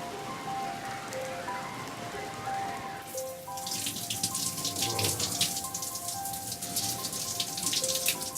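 Water fountains splash at a water park in Lima, a steady hiss of spray and pattering droplets that grows louder and denser about midway, with no voices.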